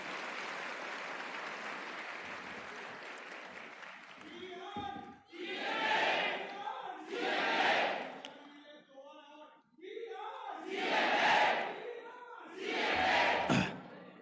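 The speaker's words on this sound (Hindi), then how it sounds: "एक बार इनके सम्मान में तालियां बजनी चाहिए।" Applause at a CMA student fest in honour of arriving central council members: a few seconds of broad crowd clapping, followed by someone speaking loudly over the hall in separate bursts.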